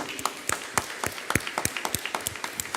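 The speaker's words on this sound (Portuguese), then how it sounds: "uma salva de palmas para quem contou" A church congregation applauding at a Catholic service, a sparse, uneven round of claps from a modest group, with distinct individual hand claps at moderate volume and no speech over it.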